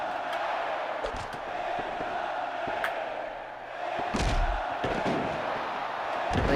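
A virtual arena crowd in the WWE Day of Reckoning wrestling game keeps up a steady roar of booing, punctuated by occasional slams and thuds from the ring.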